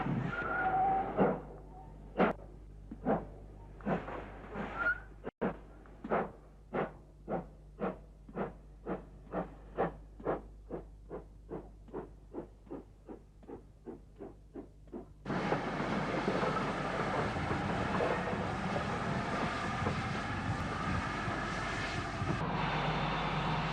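GWR 3440 City of Truro, a Great Western steam locomotive, works hard with a regular chuffing beat that quickens and fades, then gives way to a loud, steady roar of passing train noise.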